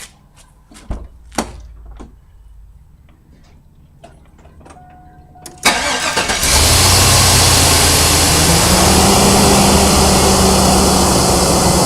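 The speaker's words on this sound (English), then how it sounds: "I'm going to start the vehicle if it will let me" A car engine cranks and catches after several faint clicks and clunks, then settles into a loud, steady idle that fills the rest of the clip, close and with no talk.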